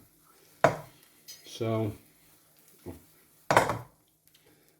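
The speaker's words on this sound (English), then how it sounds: "As you can see, I can move it around the pan." Egg noodles pushed around a frying pan: a few distinct scraping and clattering strokes of utensil on pan, close and separated by quiet gaps, with a single spoken word.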